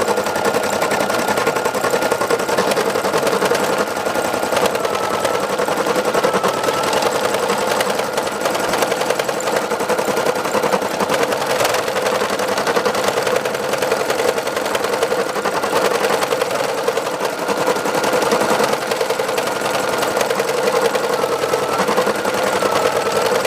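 An embroidery machine stitches a border around a black area on a couples portrait design, a steady loud mechanical whir and rapid needle clatter running continuously with no pauses and no talk.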